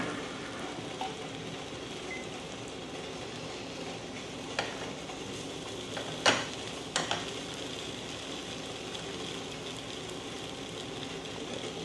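Kuih dadar crepe batter cooks in a pan with a steady, soft sizzle, broken by a few faint clinks of utensils near the middle.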